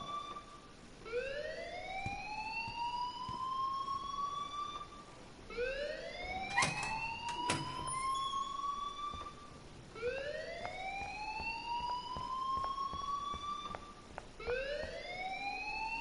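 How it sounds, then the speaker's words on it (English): Fire alarm siren sounding in the video game Life is Strange: a repeated rising wail in about four sweeping cycles, steady and moderately loud, with a brief clatter midway and no talk. "please turn off that alarm since that's your job"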